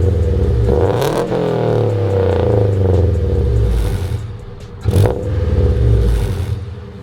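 A 2000 Honda Civic EX with a stock D16 engine and unequal length headers revs up with a rumbling, loud exhaust, then drops back and gives a sharp blip near the end.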